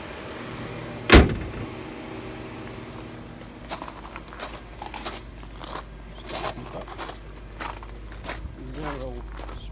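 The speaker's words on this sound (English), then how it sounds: "The doors as well have a soft shut feature, all of them." A door on a 2002 Lexus LS430 shuts with one sharp loud thud near the start, followed by quieter clicks, rustles and handling noises, and a person speaks faintly in the background.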